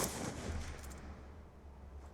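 Rapid bursts of Call of Duty 3 gunfire crackle in a dense volley, then cut off briefly before another shot at the end.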